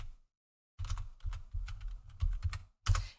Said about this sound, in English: I am typing very noisily over here